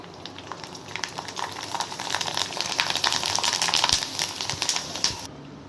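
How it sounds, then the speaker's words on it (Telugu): Rice flour vadiyalu frying in hot oil, a dense steady sizzle with rapid crackles and pops that swell and then ease, close by with no talking. "నూనె బాగా కాగినాక వేసుకుంటే మంచిగా పొంగుతాయండి"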